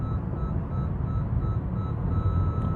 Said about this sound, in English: And now you've got a beeping noise